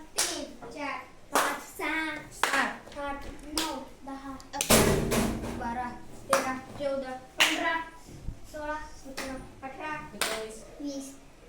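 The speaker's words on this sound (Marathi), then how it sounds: "ज्या वेळेस विषम संख्या आली त्यावेळेस आपण टाळी वाजवलेली आहे" Children clap their hands in a classroom counting game about odd numbers, with single sharp claps falling irregularly among lively children's voices counting aloud.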